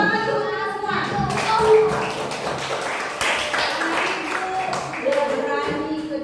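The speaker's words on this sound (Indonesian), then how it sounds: "Tepuk tangan dulu kita semua" Classroom applause from a group of students, a dense burst of clapping that swells and fades over several seconds while voices call out over it.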